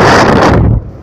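Heavy wind buffeting the microphone at the coast in Łeba, Poland, a loud roaring rumble that drops off abruptly near the end.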